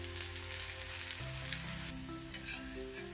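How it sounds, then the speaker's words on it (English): Akki roti, a rice flour flatbread, frying on a pan with a soft, constant sizzle and a low hum in the background, with no voices. "Let it fry properly on both the sides."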